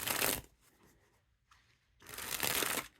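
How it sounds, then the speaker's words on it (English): Two close, crisp riffle shuffles of a Gold Wheels playing card deck by DKNG and Art of Play: a brief fluttering burst, a quiet pause, then a second longer riffle. "except for the riffle shuffles."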